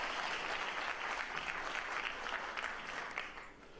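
An audience claps throughout an old TV show clip, a dense, steady burst of applause that fades slightly at the end.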